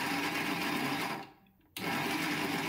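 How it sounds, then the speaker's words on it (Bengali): A mixer grinder blends chicken with a loud, steady motor whir. It winds down briefly, goes quiet for a moment, then restarts abruptly at full speed. "মিক্সার গ্রাইন্ডে একটু ব্লেন্ড করে নেব"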